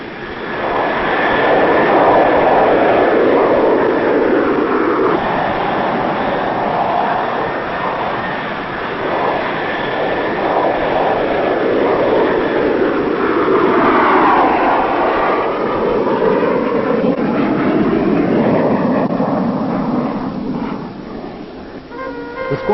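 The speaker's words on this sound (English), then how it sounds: "Teamwork is at its most crucial during night flying, when the Phantom hurtles into the darkness at supersonic speeds." An RAF Phantom jet flies past with a loud, sustained roar that swells and holds steady for over twenty seconds, then fades slightly at the end, heard alone without voices.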